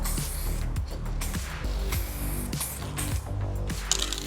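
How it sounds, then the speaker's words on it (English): Aerosol spray hisses in bursts from a can, interspersed with sharp clicks and mechanical clatter, up close with no talking. "all I'm gonna do is spray these"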